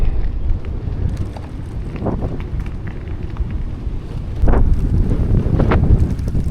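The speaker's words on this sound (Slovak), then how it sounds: "ale to vetrisko dá niekedy poriadne zabrať" Strong wind buffets the microphone while cycling on the Bogács–Tard–Szentistván route, a loud continuous rumbling roar with gusty surges that swell toward the end, with no talking.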